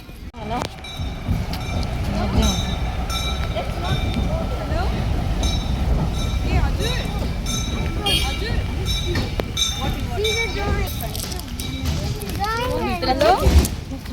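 A train rumbles past at a steady, loud level while people chatter nearby throughout, with occasional clinks and higher rail squeals.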